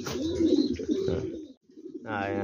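King and Mondain pigeons at a breeding loft coo close by, low rolling calls repeating through a short stretch, with a brief pause before more cooing resumes.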